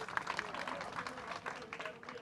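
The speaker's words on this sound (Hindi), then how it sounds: "तालियां" Scattered applause from a crowd, faint and distant, a steady patter of clapping with no distinct voices.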